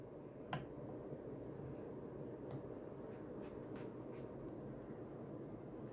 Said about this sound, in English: Slap the lid on.